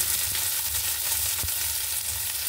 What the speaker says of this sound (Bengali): দেখুন এবার কিশমিশটা একটু ভেজে নেব